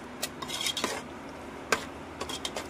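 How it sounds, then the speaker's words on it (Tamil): Curd being stirred into biryani in a pot, with scattered metal scrapes and clinks of a spoon against the vessel, a few sharper knocks, fairly quiet and close, no talking. "பாருங்க தயிர் ஊற்றிட்டு நல்லா மிக்ஸ் பண்ணிக்கணும்"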